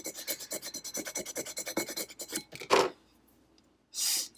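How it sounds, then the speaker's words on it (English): A scraper smooths vinyl decal onto a wine glass in quick, rhythmic rasping strokes, close and crisp, followed by a brief pause and one last, louder scrape. "And then I'll go back with my scraper once it's all smooth."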